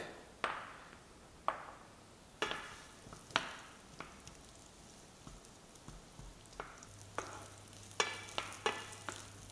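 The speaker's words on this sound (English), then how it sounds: "Heat up the oil. Right, so you can put in the onion and the garlic." Onion and garlic fry in hot oil for a Malaysian paprik ayam, a soft, low sizzle under a series of sharp utensil taps and clinks against the pan, with no talking.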